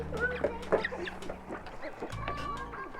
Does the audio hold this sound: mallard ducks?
yes